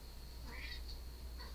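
A pet cat meows twice softly indoors, one longer call followed by a shorter one, faint against a low steady hum with no talking.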